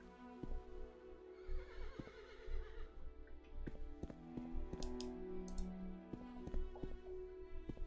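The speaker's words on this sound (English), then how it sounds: "Oh, there's a horse around here somewhere." In a game with clay huts nearby, a horse whinnies in a rising, wavering call, with hoof clip-clops and sharp clicks scattered through a busy, fairly quiet soundscape.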